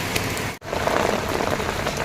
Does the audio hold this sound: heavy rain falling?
yes